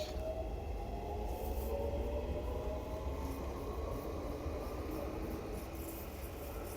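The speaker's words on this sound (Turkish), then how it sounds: "bu arada trenimiz Sirkeci'ye kadar gidecek" A passenger train rumbles steadily along the Sirkeci–Kazlıçeşme line in Istanbul, a continuous low roar with faint rattling and occasional high squeals, no talking.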